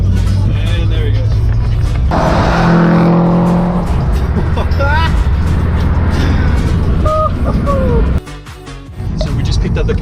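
A 2003 Subaru WRX STI pulls away, its engine revving and rising in pitch through the gears, loud and close at first, then dropping away sharply near the end.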